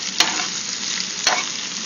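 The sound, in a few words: zucchini frying in coconut oil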